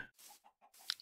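Chickens cluck in the Minecraft video game, a few short, soft bursts with a brighter sharp peak near the end, fairly quiet and with no talk over them.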